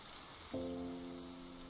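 Soft, steady hiss of rain falling in a desert in a video game, with a faint sustained musical tone entering partway through.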